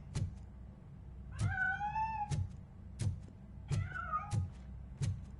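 Meows from a cat in the video game RoboCop: Rogue City: two drawn-out, wavering cries rise amid a regular series of sharp knocking thumps, with no talk over them.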